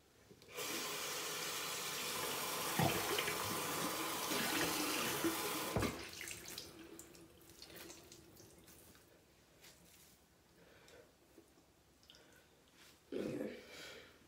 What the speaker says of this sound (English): So I'm done. Washing my face.